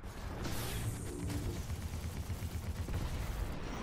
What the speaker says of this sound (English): He's like, who the hell is shooting me?